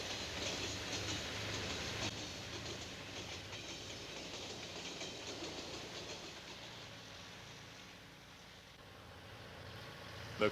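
An Illinois Central Iowan passenger train rolls westward on a cold morning, a steady low rumble with faint rhythmic clatter from the cars, heard at moderate distance and fading slightly before a small bump at the end.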